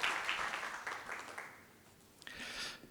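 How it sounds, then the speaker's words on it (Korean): An audience at an academic lecture at Ewha Womans University gives quiet, distant applause that swells, dips briefly and picks up again. "박수 한번 쳐주시기 바랍니다."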